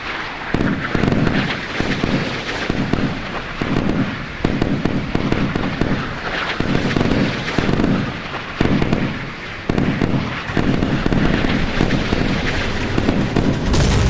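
Missile launches and explosions during a naval battle between 1970s–80s Chinese and British warships in the video game Sea Power, a dense, loud, continuous barrage of rumbling booms and crackling blasts with rhythmic bursts throughout.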